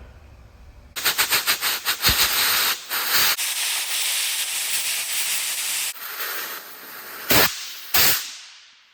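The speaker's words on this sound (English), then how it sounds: "blowing the air into there like this, and then screwing this caging tool at the same time" Compressed air is blown into a brake chamber to push its diaphragm back, giving loud close hissing blasts: several rapid stuttering bursts, then a long sustained hiss and two short final puffs.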